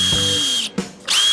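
A fab lab power drill on speed setting 2 whirs at a high steady pitch, cuts off briefly, then spins up again, loud and close.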